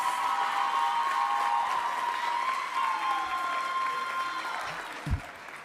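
Applause from the audience at a school awards ceremony for a volleyball team award. Steady clapping from a crowd at moderate distance sustains throughout, with a faint tonal hum underneath and a brief knock near the end.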